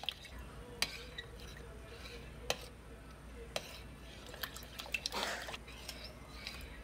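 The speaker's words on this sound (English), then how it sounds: "So I'm just gonna mix it up a little bit here." Sourdough starter stirred into water in a bowl at home, spaced light clicks and taps of the utensil against the bowl with a brief wetter swish near the end, close and fairly quiet.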